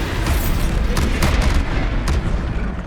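Bombarda explosion spells go off in rapid succession in Hogwarts Legacy, a loud, dense roar of overlapping blasts with a few sharper cracks standing out above the continuous rumble.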